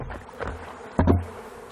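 Honeybees buzzing around a sugar feeder outdoors, a steady low hum with a louder close pass of a bee near the microphone partway through.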